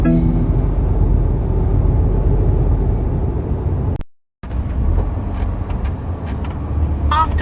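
A new goods vehicle drives along a road with a steady low engine and road rumble. The sound is briefly cut to silence partway through, then resumes with some rattles.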